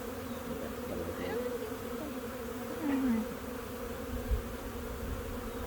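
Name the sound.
honey bees buzzing during hive inspection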